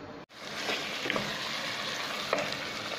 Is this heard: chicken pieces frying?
yes